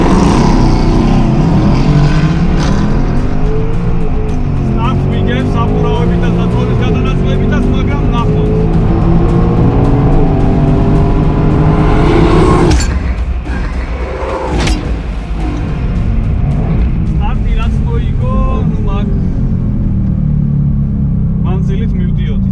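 A Mercedes-AMG GT S Edition One sports car launches and accelerates hard in a street race, its engine roaring loud and close through rising gears before fading, with people talking over it.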